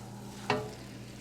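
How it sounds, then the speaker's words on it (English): A single short scrape as lo mein noodles are stirred through sauce in a pan, fading quickly into a low, steady background hum. "Mix it up so that all the noodles are coated."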